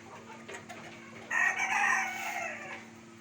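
White bantam chickens kept on a house rooftop, clucking in a close flock with a louder burst of calls midway, over a steady background hum.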